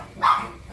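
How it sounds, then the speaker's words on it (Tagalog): A Shih Tzu gives one short, clear bark at close range, over faint background hum. "Nagtatahulan na yung mga aso."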